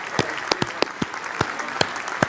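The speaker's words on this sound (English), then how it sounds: "That's what gets the applause." Short burst of audience applause, a few sharp claps standing out over a dense patter of hands, fairly close and loud with no talk.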